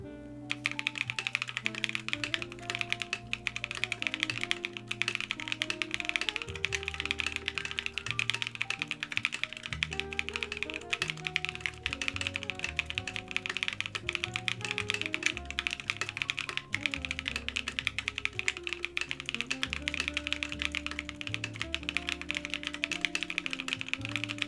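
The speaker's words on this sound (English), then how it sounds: "Let's do an official typing test." Steady fast typing on a Sunset 80 mechanical keyboard fitted with JWK Bluey switches, a dense continuous run of close clacky keystrokes with no voices.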